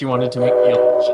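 A person's voice imitates a train whistle with a sustained, wavering tonal hoot, loud and close, running together with speech.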